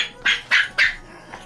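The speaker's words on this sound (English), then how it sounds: "This dog is the worst." A dog indoors during a home hamstring workout gives three sharp, close barks in quick succession, followed by a fainter fourth yelp.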